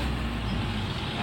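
Suzuki Soluna car engine revving and pulling hard under acceleration after a tune-up, a steady loud broadband roar filling the short stretch with no voices.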